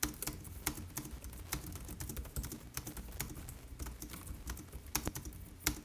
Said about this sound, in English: The typing experience is actually pretty good since it's really solid.